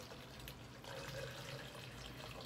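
Chilled water, just below room temperature, poured into a shaker for a grape energy drink, a faint steady splashing trickle lasting a couple of seconds with no talk.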